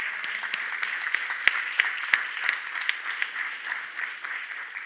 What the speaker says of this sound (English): Can we just give them another round of applause?